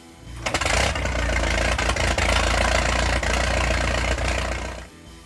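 A four-cylinder Allis-Chalmers WC farm tractor engine of about 30 horsepower running steadily, a loud, close, continuous low chugging rumble with a rough idle rhythm that holds for several seconds before cutting off.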